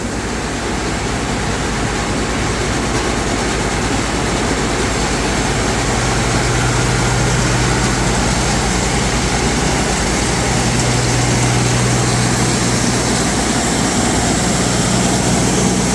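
A loud, steady tractor engine powering a grain auger drones continuously with a low rumble and mechanical whir, close by and unbroken throughout.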